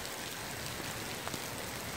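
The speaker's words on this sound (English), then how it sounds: "Rain hitting me" Rain falls outdoors in a desert town, a dense steady hiss of drops pattering on surfaces, close and even, with no voices.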